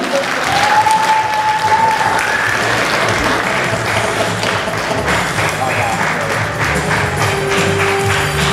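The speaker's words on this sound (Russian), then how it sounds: "Аплодисменты нашим родителям." Sustained crowd applause for parents at a school Last Bell graduation ceremony, steady dense clapping throughout, with a voice talking over it and a faint tone in the background.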